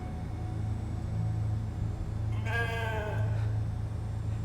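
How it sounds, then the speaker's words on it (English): A single drawn-out sheep bleat rises in the middle when the animal is petted in the video game The Alters, clear and fairly close over a low constant background hum. "We're gonna pet the sheep."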